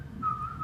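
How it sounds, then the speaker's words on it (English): A person whistles a short tune, a faint, thin, steady tone that rises slightly partway through over a low background hum. "he starts whistling"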